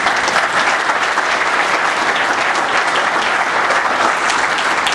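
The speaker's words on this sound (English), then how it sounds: "we should give a round of applause to one of our board members, Mr. Tim Adams of SATEC." A crowd at a business roundtable anniversary event gives a round of applause. The clapping is dense and steady and holds at an even loudness throughout, with no voices standing out.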